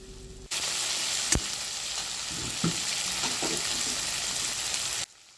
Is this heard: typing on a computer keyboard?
no